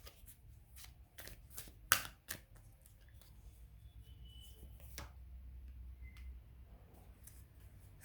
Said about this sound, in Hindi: एक दो कार्ड और निकाल लेती हूँ।